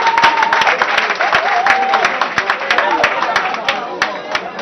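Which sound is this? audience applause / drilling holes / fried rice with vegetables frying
audience applause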